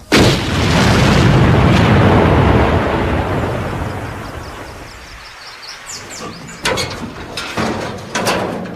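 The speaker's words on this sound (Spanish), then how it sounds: "Hoy compara los efectos de una explosión sobre vehículos con diferentes niveles de protección." A blast test against armored vehicles with different levels of protection, a loud deep boom that rumbles and decays over several seconds, followed by scattered crackles and debris impacts.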